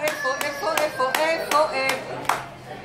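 Hand claps at a bat mitzvah celebration, a steady run of sharp, loud claps about every third of a second, with cheering voices and chatter mixed in around them.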